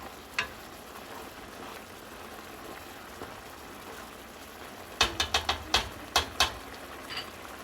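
A skillet on high heat gives a faint, steady sizzle, and partway through a quick run of sharp metallic scrapes and clicks comes from stirring, with no voices.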